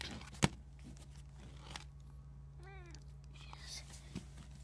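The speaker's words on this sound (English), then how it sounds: "This is my cat's house, and she actually might be in here." A single short cat meow, soft and close, amid quiet background rustling and a faint hum.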